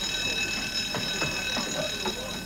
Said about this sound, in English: Right, that is the alarm bell, which you all heard.